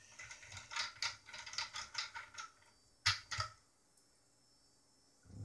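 A hand screwdriver turning screws on a Yamaha LS9 mixing console fader, a quick run of close ratcheting clicks, then a brief burst, then near silence.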